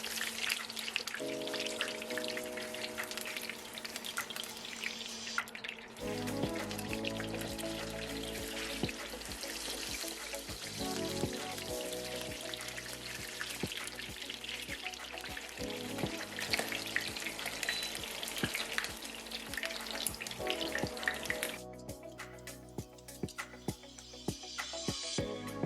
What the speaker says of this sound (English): Just put them in boiling oil and fry both sides.